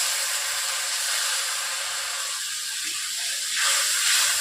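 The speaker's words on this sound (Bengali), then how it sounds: "অল্প করে জল দিয়ে দিচ্ছি।" Water poured into spices frying in a pan for a Bengali hilsa fish curry gives a steady, loud hiss and steam sound, swelling near the end.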